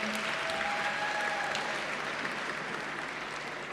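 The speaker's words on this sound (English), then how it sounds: "Let's give him a round of applause." Steady, dense applause fills a graduation ceremony hall for Regenesys Business School, loud and even throughout, with a few faint tones of a voice or whistle early on.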